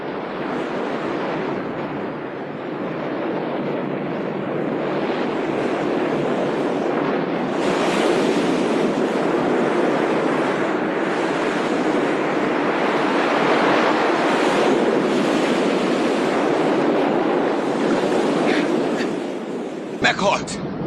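Large ocean waves roar in a continuous, loud wash of surf with steady wind noise, swelling slightly midway and ending with a few brief knocks.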